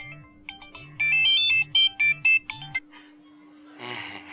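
A mobile phone ringtone plays a bright repeating melodic pattern of short beeping notes for a few seconds, then stops, followed by faint rustling.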